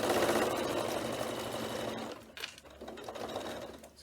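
A home sewing machine runs steadily, stitching binding onto fabric for a notebook project, a close continuous whir that stops briefly near the end before resuming at a lighter pace.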